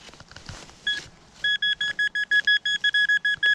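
A handheld metal detector sounding a strong, stable target signal: a rapid series of clear, evenly spaced electronic beeps, close and steady, after some faint scraping and handling noise at the start.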